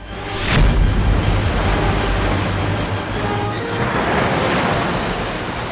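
Rushing water in a fairy-realm setting as melting ice raises the water level, heard as a loud, steady broadband roar like surf with a brief swell near the start and no voices.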